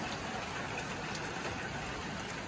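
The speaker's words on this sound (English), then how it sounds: "But yeah, it's raining nicely." Steady rain falls in a backyard, making a continuous, even hiss of drops with no voices and no clear pauses.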